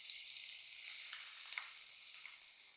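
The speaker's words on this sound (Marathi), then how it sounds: "गॅस बंद करायचा आणि हे कडकडीत तूप हलव्यावर घालायचं" Very hot ghee poured over carrot halwa in a pan, a faint, steady hissing sizzle with a few light crackles, off the heat and quiet throughout.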